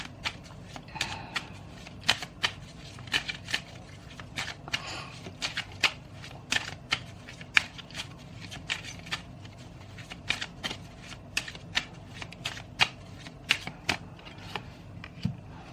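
Tarot cards being shuffled by hand, a steady run of crisp, quick riffling snaps and soft slides repeating close up for the whole stretch, with no voices.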